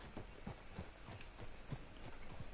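Horse hooves in Red Dead Redemption 2 clip-clop at a steady trotting rhythm, a series of soft, fairly faint thuds over a background hiss, with no talking.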